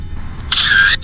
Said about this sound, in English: The sound of a camera shutter,